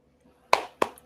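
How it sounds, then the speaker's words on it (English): Three sharp, separate claps ring out on a podcast set, evenly spaced after a quiet start, close and crisp like a single clapper or sound pad rather than a full crowd. "Can we get an applause on that one?"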